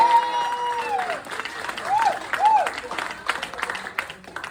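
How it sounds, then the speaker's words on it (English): An audience applauds Governor Abbott at a political speech, clapping and crowd noise building under ongoing talk and other voices. "Let's give Abbott a great round of applause."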